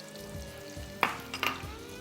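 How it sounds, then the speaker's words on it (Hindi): Onions fry in hot cooking oil for imli qeema, a continuous close crackle broken by a couple of bright utensil clinks against the pan. "इसको सबसे पहले करेंगे फ्राई"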